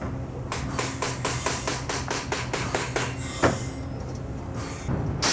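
Steady, evenly spaced metallic hammer blows ring out as dents are knocked out of a round circular saw blade in a saw-sharpening shop, about a dozen strikes in quick rhythm over a constant background hum.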